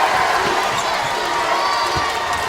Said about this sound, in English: would like some more cheering from the fans who've come from Wilmington, North Carolina